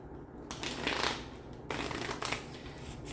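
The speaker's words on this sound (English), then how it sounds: "This deck really doesn't want to shuffle right now." A deck of tarot cards being riffled and shuffled up close, a steady papery flutter in two bursts with a brief pause between, no talking.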